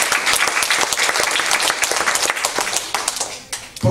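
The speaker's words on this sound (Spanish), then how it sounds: "Démosle un fuerte aplauso al Señor." A church congregation claps loudly during a child's dedication service, dense overlapping hand claps with sharp individual slaps standing out, close and sustained throughout with some faint voices mixed in.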